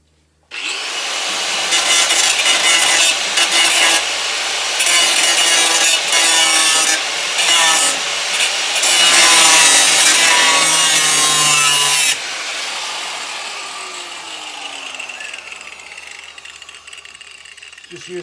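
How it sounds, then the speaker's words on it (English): A cutoff wheel grinds out spot welds on sheet-metal pieces during an LS 5.3 engine swap into a 1951 Hudson, giving a loud, harsh, continuous grinding that dies away into a fading wheel spin-down. "cutoff wheel, find the spot welds where these pieces are on, grind them a little bit"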